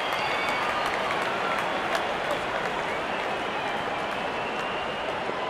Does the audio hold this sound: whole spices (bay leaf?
no